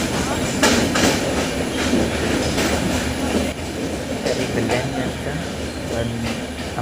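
A passenger train running from Pune toward Lonavala, heard from inside as a steady loud rumble with faint rhythmic clatter of wheels on rails, continuous throughout.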